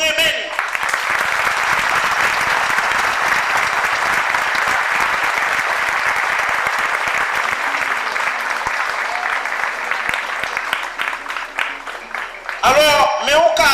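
A congregation applauds at a 50th anniversary mass, sustained loud clapping from a large group that continues steadily, with voices heard near the end.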